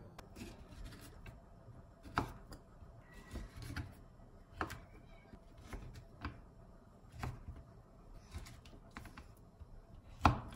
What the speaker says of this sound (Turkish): Hepsini bu boyutta bu şekilde kesmeye devam ediyorum.